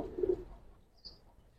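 A Giribaz pigeon at a loft gives a single soft, low coo close by, followed by a faint brief chirp, in an otherwise quiet setting.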